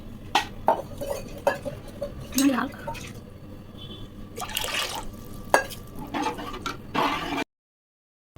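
Curd being stirred into mor kuzhambu in a pot, with scattered clinks of a spoon against the vessel and light liquid sloshing, close and moderate, alongside someone talking, then cut to silence near the end.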